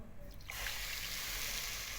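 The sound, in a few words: pouring cup of water into pan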